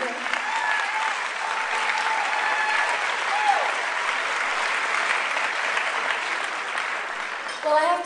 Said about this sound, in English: you gave her a warm applause